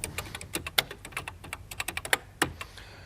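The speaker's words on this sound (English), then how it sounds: "If I type in Space Shuttle," Keys clatter on a computer keyboard demonstrating an early encyclopedia program, a run of irregular, close, crisp taps of varying loudness with no voices.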